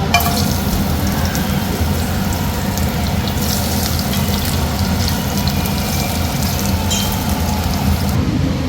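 Shallots and mustard seeds fry in hot oil in a home kitchen, giving a steady, loud sizzle and crackle that runs unbroken throughout with no talking.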